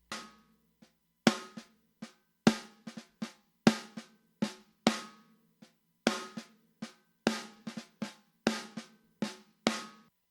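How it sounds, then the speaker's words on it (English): Snare drum hits repeat in a steady groove, first uncompressed and then with compression added, each crack sharp and close with a short decay and no talking over it. "Listen to what the snare sounds like as we turn up the ratio."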